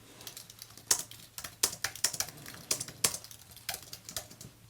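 Fingers tap out a shortcut and quick bursts of keys on a computer keyboard, a close, brisk irregular clatter of sharp clicks over a faint background hum, with no speech.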